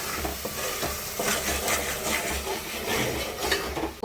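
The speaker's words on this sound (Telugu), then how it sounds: "ఇది కూడా ఒక 2 మినిట్స్ పచ్చివాసన పోయే వరకు వేగాలండి" Onion paste and ginger-garlic paste frying in a pan, heard as a soft continuous sizzle with the scrape and knock of a spoon stirring, close up and with no talking.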